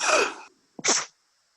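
A single loud, close human sneeze bursts out sharply, then a second shorter sneeze follows after a brief pause, with silence between and after.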